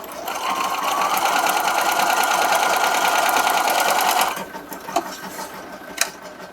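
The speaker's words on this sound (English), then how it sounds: "I will sew across from corner to corner" An embroidery sewing machine stitches pillow pieces corner to corner, running loud and steady with a rapid needle rhythm for about four seconds, then stopping, followed by a few faint clicks.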